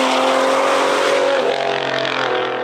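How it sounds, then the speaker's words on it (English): A big-turbo BMW F30 335i with an N55 engine revs hard and climbs in pitch, a loud sustained roar with a tonal whine, easing slightly near the end. "The car accelerates fast as hell, and the shifts are almost DCT fast"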